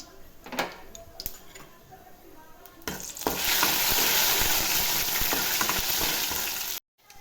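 Tempering seeds and dried red chillies hit hot oil and burst into a loud, steady sizzle after a few clinks and taps, crackling continuously until it stops suddenly.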